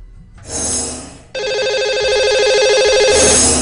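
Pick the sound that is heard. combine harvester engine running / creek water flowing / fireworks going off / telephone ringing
telephone ringing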